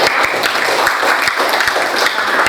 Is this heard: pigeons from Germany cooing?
no